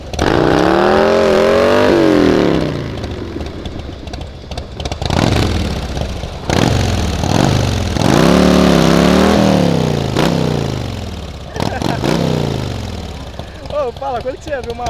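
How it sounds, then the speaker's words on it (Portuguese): A Harley-Davidson motorcycle engine roars and revs repeatedly at a drag race launch, loud and nearby, with bursts of acceleration and brief drops in between, while voices shout faintly underneath. "quando que você ia ver uma Harley na arrancada"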